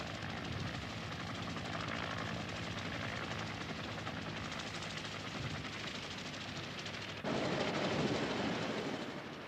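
Helicopters during the evacuation of Saigon, a continuous rotor thrum and engine roar that swells louder near the end, with no speech.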